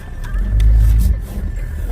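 A car drives along a street toward the Universalny market in Aldan, Yakutia, its engine giving a loud, steady low rumble from inside with a brief swell.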